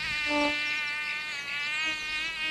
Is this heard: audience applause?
no